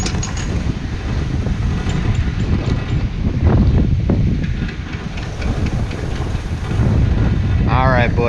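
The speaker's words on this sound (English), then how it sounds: "The wind, we love it." Strong wind on a ski slope at Gunstock on a spring day, a loud continuous rushing buffet across the microphone throughout, with a brief voice near the end.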